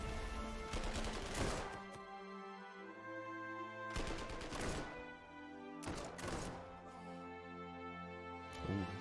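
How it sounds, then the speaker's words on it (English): Artillery fires in the WWII strategy game Panzer Corps 2, a series of four heavy booming volleys spaced a couple of seconds apart, each with a crackling burst and a ringing tail. "He's able to fire off their artillery first."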